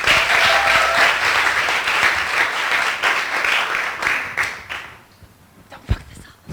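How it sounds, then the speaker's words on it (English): An audience at a FuckUp Nights event in Beirut applauds a speaker, a full burst of clapping that fades out after about five seconds, leaving a few stray claps and room noise. "Big round of applause for Doreen."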